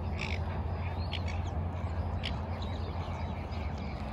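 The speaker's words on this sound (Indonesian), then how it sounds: "Ada soang, udah pada bangun." Geese calling outdoors on a Melbourne morning, a few harsh honking calls scattered over steady wind or traffic rumble, moderately distant.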